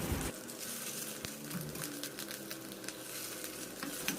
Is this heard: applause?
no